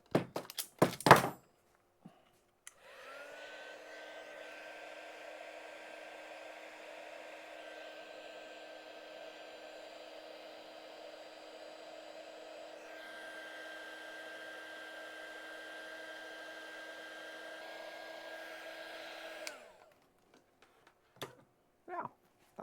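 A heat gun blows steadily for about seventeen seconds while heat shrink tubing is shrunk onto LiFePO4 battery wiring, a close, even whirring hiss with a faint tone, framed by a few small clicks and handling knocks before and after.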